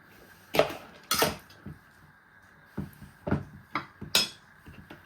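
A fork clinks against a bowl while slaw with yogurt and mayo is stirred, giving a handful of sharp, close metallic taps spaced irregularly with quiet pauses between.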